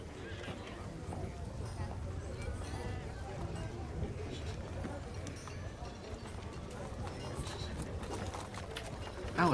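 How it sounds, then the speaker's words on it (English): Horses in a town street play as tabletop game ambience, with whinnying and neighing over steady clip-clopping hooves. Voices talk throughout. "you hear a whinnying of horses down the street"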